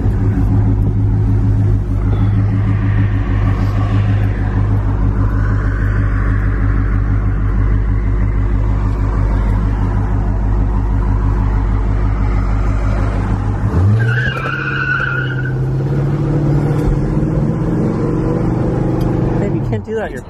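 A 1969 Pontiac LeMans V8 under way, its deep rumble loud and constant from the cabin, dropping briefly as it shifts about two-thirds through before pulling again, with occasional voices over it.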